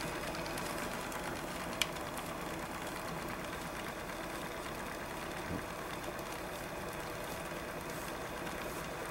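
An overunity motor wheel in a separate-core setup whirs steadily with a fine mechanical buzz, close and continuous, with one small tick early on.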